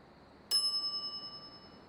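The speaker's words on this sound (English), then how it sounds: "Ring bell for service." A bright service bell in a pirate video game strikes once and rings on with a clear, sustained metallic tone that slowly fades, alone against quiet background.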